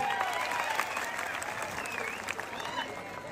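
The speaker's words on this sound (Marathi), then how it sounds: "टाळ्या वाजवा सर्वांनी." A crowd applauds loudly and steadily at a Maharashtra kushti wrestling bout between Pruthviraj Patil and Pruthviraj Mohol, with an announcer's voice carrying over the clapping.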